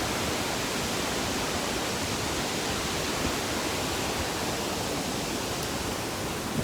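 A river rushes past a rock, a dense, steady roar of flowing water heard up close and loud, continuous without a break.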